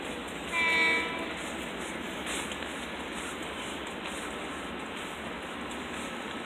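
A Long Island Rail Road train rumbles past at a station in Westbury with a continuous loud roar; a brief horn sounds early over the rolling noise.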